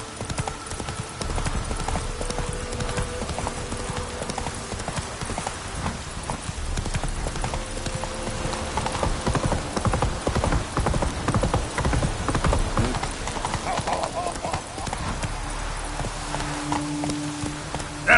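Roach the horse's hooves in The Witcher 3, a steady rhythmic clip-clop of trotting over ground, close and continuous, with a faint whinny and a voice briefly in the background over game music.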